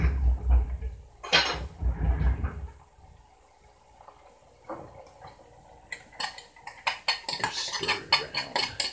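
A spoon stirs food in a pot, irregular clinks and scrapes with soft knocks from cookware, close and moderately loud, with quieter pauses between bursts.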